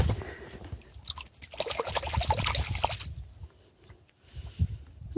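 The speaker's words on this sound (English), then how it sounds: "Let's give it a little rinse." Water splashing and trickling over a metal detecting find, likely iron in a copper sleeve dug on a beach in December, a loud close burst of rinsing that fades into quieter dribbles and a final splash.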